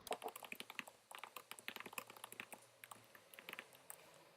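Rapid clicks from a computer keyboard as React Native code is typed, a quick uneven patter of keystrokes close and fairly quiet, with no talk.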